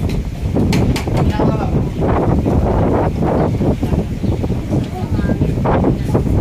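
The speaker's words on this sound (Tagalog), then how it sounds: "Sobrang hangin." Strong wind buffets the microphone in loud, roaring gusts, with voices talking underneath the blustery noise.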